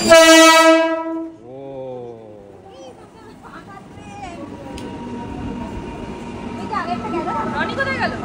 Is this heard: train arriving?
yes